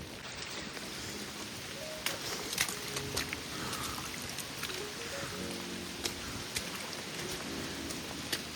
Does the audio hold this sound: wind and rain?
yes